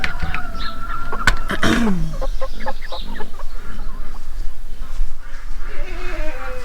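Meat chickens clucking and squawking loudly at breakfast feeding time in a backyard garden coop, a busy overlapping flock chorus that never stops.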